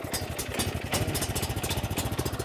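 A Briggs & Stratton Vanguard engine on a Sweepster WSP24 walk-behind power broom runs at about half throttle with the choke on, giving a steady, close, rhythmic chugging with metallic clatter.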